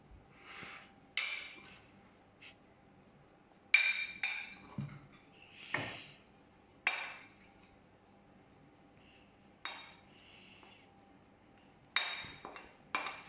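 Cake batter for a banana and strawberry log cake is stirred gently in a bowl after flour goes in, giving scattered soft clinks and scrapes of utensil on bowl separated by quiet pauses, close but faint.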